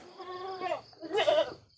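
Goats in a pen set in a farm garden, two short nasal bleats close by, one after the other, with quiet surroundings.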